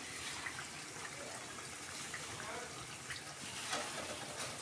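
Jackfruit fritters (boras) fry in a pan of oil, giving a faint but continuous crackling sizzle that stays even throughout.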